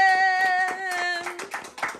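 Scattered hand claps at a birthday party, a handful of sharp claps spreading irregularly beneath a sustained musical tone that fades out partway through.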